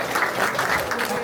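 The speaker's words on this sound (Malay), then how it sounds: "Beri satu tepukan yang kudus sekali" Guests at an engagement ceremony clap together in a short burst of steady, dense applause, fairly close and without talk.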